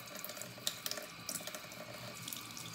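Warm water runs steadily from a sink tap for hand washing, a soft continuous splashing stream with a few brief drips and clinks, heard close and alone.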